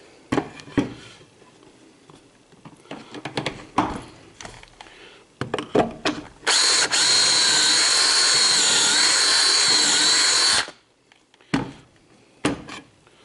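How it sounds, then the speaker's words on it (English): A power drill runs steadily for about four seconds as holes are bored through a pocket-hole jig into cabinet face frame boards in a shop. Shorter clunks and handling knocks from clamping come before and after. "got the holes drilled, got the jig done"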